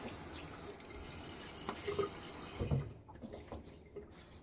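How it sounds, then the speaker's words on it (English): Water splashes and drips at a sink as a man wets his face before shaving, with several soft irregular splashes and trickles, close up and fairly quiet, with no talking. "So let me throw a little bit of water on my face."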